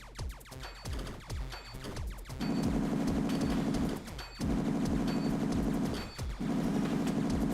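A Frogger gun fires in a cartoonish action game, rapid repeated shots that give way to sustained buzzing bursts, loud and continuous with brief gaps.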